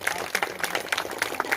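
Audience clapping at a Brahma Kumaris anniversary ceremony, a moderate scattered patter of hands at a fairly even pace, heard at some distance in a hall.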